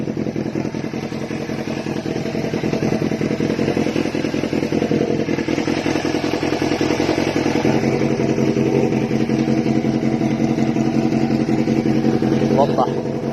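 A modified Yamaha FZR400 motorcycle engine idles steadily with a low, even putter, close and loud throughout, a voice speaking briefly over it.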